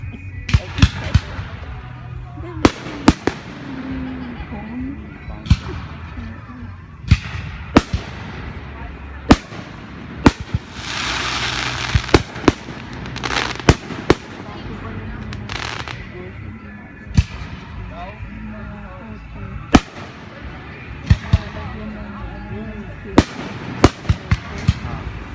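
Fireworks and firecrackers go off in a long series of sharp, loud bangs at irregular intervals, some close and punchy, over a continuous crowd murmur with voices talking in the background and one longer crackling burst midway.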